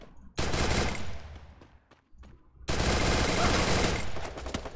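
Rapid machine-gun bursts in the Free Fire battle-royale game: a long, loud stream of rattling automatic fire, a brief lull with scattered shots, then another sustained close burst.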